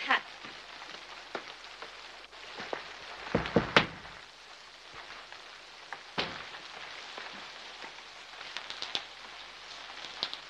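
Heavy rain falls outside at night, a steady soft patter with scattered louder drips and taps throughout, fairly quiet and without talk.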